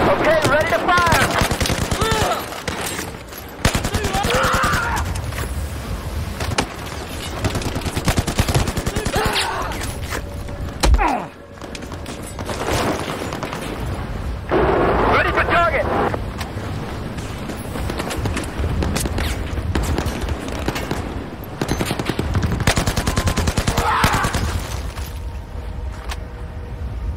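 Gunfire and explosions in the Battlefield 4 video game, Singapore chapter: dense bursts of machine-gun fire alternate with heavy booming blasts and short lulls. The sound is loud and close, with occasional voices in between.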